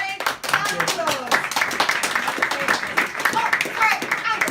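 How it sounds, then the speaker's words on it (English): Audience clapping at a business club launch party, a dense round of hand claps with chatter and voices mixed in throughout. "Round of applause."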